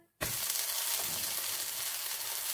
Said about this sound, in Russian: Жарю блины на разогретой сковородке.